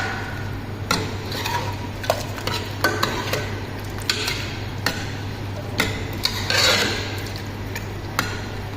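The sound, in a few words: stirring cauliflower potato curry in a pan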